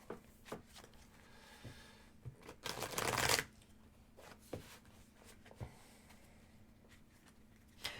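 A deck of tarot cards is shuffled indoors in quiet, scattered bursts of soft riffling and tapping, with one louder flurry midway.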